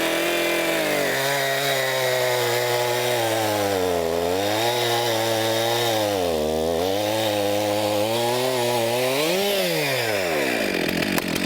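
A chainsaw runs at full RPM and cuts into a log, a loud, close, continuous engine whine whose pitch dips and rises repeatedly as the chain bites into the wood.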